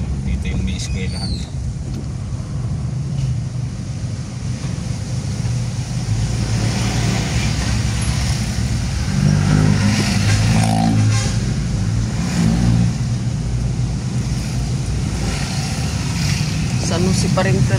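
Passing road traffic near a school, a steady low rumble of car engines with wind buffeting the microphone and some revving, while a person talks throughout.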